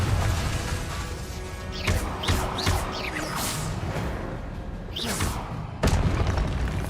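Spell impacts from the video game Hogwarts Legacy: repeated crashing, booming hits and whooshes burst through a dense, busy game mix, with a strong blast near the end.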